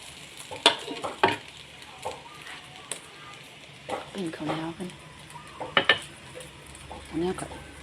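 An egg fries in a hot pan with a soft, steady sizzle under scraping and clinking from a utensil, close by, while people talk over the cooking.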